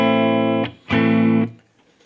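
A Gibson Custom 1966 EDS127 electric guitar played with a clean tone rings out in two sustained chords, the first fading after half a second and the second struck soon after and held before decaying, with no talking.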